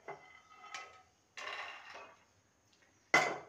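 Roasted peanuts are scooped out of a hot pan in three short, close bursts of scraping clatter, separated by brief silences.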